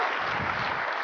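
Audience applause for two candidates at a televised debate show, a dense steady wash of clapping lasting about a second with no voices on top.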